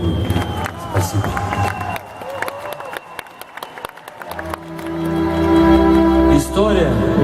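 A concert crowd at a rock show cheers, shouts and claps, the noise swelling from a scattered mix of voices into a loud, sustained roar of applause over the second half.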